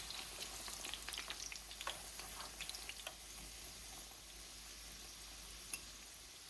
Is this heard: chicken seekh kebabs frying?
yes